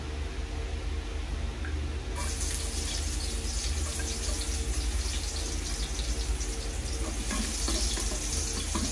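Garlic hits hot oil in a cabbage sauté, sending up a loud, dense, continuous sizzle that swells a couple of seconds in and holds steady, close to the pan, with no talking.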